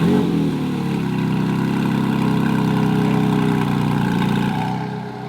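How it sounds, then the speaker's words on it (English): A Porsche GT4 RS fitted with a Fabspeed exhaust fires up and settles into a loud, steady idle up close, holding evenly for several seconds before easing off, no talking. "It's getting turned on for the first time."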